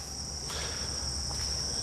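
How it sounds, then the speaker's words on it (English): A cricket chirps steadily and loudly close by, giving a continuous high trill in a quiet setting near a 1971 140 H3 engine being worked on. "So, there goes a Cricket."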